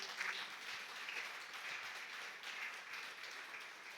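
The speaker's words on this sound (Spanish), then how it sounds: "Damos un aplauso al Señor" Sustained applause from a church congregation, a steady wash of many hands clapping at moderate volume for several seconds, with no speech.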